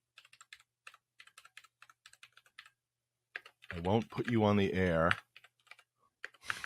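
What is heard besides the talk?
typing on a computer keyboard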